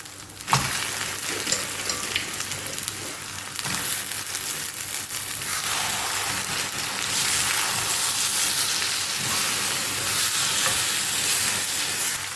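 Crab pieces frying with masala in a pan for crab kuzhambu, a loud, steady sizzle with stirring scrapes running throughout, close and continuous, with no voices.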